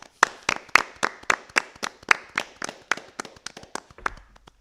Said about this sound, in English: Let's give these new inducted members a round of applause.